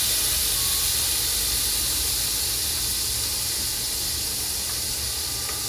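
Brandy hits a hot steak pan for deglazing, raising a loud, steady hiss and sizzle of steam that holds evenly throughout while the bottom is scraped.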